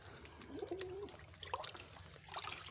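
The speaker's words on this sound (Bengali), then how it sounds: "এই যে দেখুন আমি জল দিচ্ছি মগ দিয়ে ঢেলে দিচ্ছে" Water poured from a mug into a pigeons' bath at a pigeon loft, a soft trickling and splashing that stays faint and continuous throughout.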